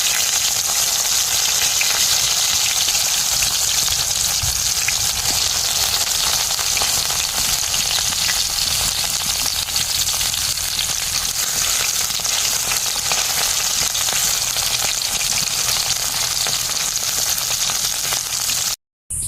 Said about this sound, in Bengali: একই তেলের মধ্যে মাছগুলো ভেজে নিই